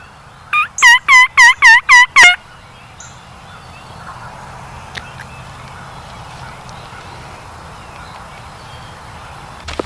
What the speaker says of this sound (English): I heard a gobble right behind me